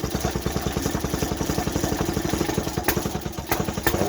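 A 1950s Qualcast sixteen hand-cranked lawnmower engine, choked after flooding, catches and runs with a fast, even put-put chug and clattering mechanical ticks, close by and alone.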